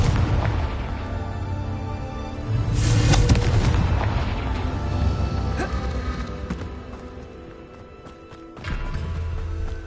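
Explosive blasts of the Confringo spell in Hogwarts Legacy, booming impacts over a dense, rumbling game soundscape that swells and fades across the stretch, with no talking.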